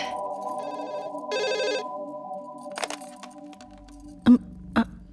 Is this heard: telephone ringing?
yes